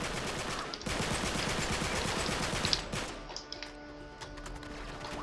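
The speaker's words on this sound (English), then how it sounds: "let's get to shooting" Dense automatic gunfire from the Uncharted 3 video game, a loud sustained burst of rapid shots for several seconds that then thins into scattered single cracks and impacts over a steady hum.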